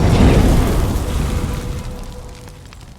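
A single shot from a Fierce CT Rival bolt-action rifle chambered in 300 PRC, heard outdoors as a loud blast that rolls off into a long fading echo.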